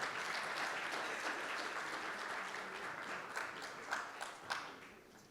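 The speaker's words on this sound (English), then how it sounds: "May we welcome them on stage with a round of applause" An audience at a plenary session gives a sustained round of applause, dense and steady at first, then thinning into scattered louder claps toward the end.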